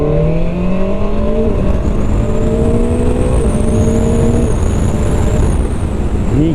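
QJ Motor SRK 921 RR motorcycle accelerating hard in second gear, a loud close engine howl climbing steadily in pitch across the run, with no talk over it.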